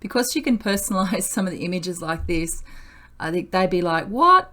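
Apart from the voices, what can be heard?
None of the usual background noises is heard.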